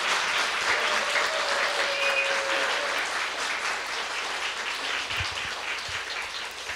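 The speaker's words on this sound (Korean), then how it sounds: "박수 한번 쳤으면 좋겠습니다" A church congregation at a Christmas service claps in sustained, dense applause that fills the room, loud and even before tapering slightly toward the end.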